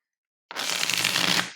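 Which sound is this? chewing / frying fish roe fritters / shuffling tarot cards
shuffling tarot cards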